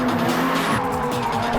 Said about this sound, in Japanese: there was even a drifting exhibition performed by D1 drivers